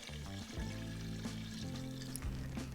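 Chicken stock poured into a cooking pot for a seafood cioppino, a steady liquid splash and gurgle over a low, droning background hum, fairly faint.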